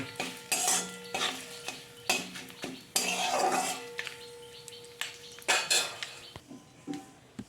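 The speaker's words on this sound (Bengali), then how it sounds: "আর দেব হিং গ্যাসটাকে একদম লোতে করে অল্প করে এগুলো ভেজে নেব" Curry leaves and asafoetida frying in oil on a very low flame while spices are tempered for a coconut chutney, with a soft continuous sizzle under repeated clinks and scrapes of a spoon against the pan, close and moderately loud.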